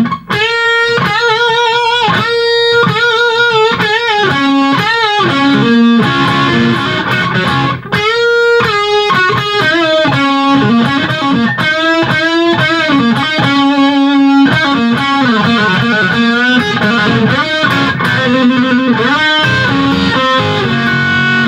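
Electric guitar solo from a song, played loud and distorted with bends, quick runs and sustained notes over a continuous backing band, with no talking.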